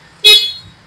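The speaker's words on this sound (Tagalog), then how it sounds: "Malakas yung busina niya." A single loud, bright honk from a Suzuki Access 125 scooter horn, close by, lasting about a quarter second and then fading quickly.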